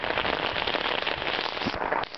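Heavy rain pours down on a flooded street in Fullerton, a dense, steady hiss of drops with scattered louder splashes, continuous and close throughout.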